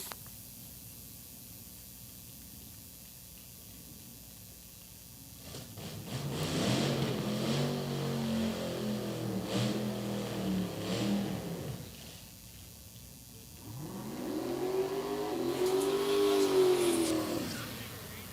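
Drag racing cars accelerate hard down the racetrack at Orlando Speed World during Sick Week 2023, two runs of loud engine roar rising in pitch and fading, separated by a quieter pause.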